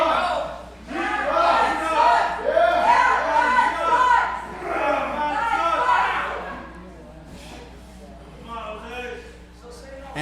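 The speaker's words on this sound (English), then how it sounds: "Fans getting behind Jose here." A wrestling crowd at a PPW iron man match cheers and chants in loud waves behind a ringside commentator, swelling and fading over several seconds.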